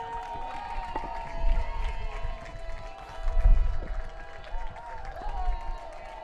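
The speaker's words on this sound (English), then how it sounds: "Hear the crowd. Let's get behind them." Crowd noise at an American football playoff game, Sandwell Steelers against Northumberland Vikings, a broad distant roar that swells twice and then eases, with a faint steady tone running underneath.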